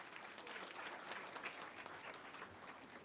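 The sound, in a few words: audience applause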